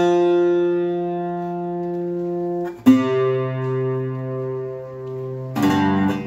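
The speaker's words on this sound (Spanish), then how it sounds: "mostrarles los primeros sonidos de este bajo quinto de caoba" A mahogany bajo quinto strung with stainless steel wound strings sounds a few sustained plucked notes and chords. The tone is bright and twangy, with a clear new strum partway through and another strum at the end.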